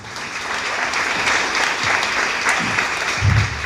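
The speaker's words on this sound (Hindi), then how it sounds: "यहां तालियां चाहिए जी" Audience applause at a Hindi talk on superstition, a dense sustained clapping that stays fairly loud throughout, with a low rumble of voices near the end.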